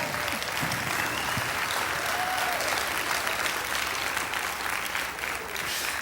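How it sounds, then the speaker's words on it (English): Steady, full applause from a gathered crowd at a testimony event, dense clapping sustained at an even level throughout. "Y'all give that man some applause real quick"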